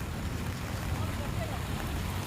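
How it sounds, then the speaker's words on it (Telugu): Floodwater on Donka Road in Guntur after four hours of nonstop heavy rain, a dirty torrent rushing along the street as a continuous loud wash with low churning rumble and no breaks. "మొత్తం పెంట నీళ్ళు మురికి నీళ్ళు అన్నీ వస్తున్నాయి దోసుకుని వస్తున్నాయి"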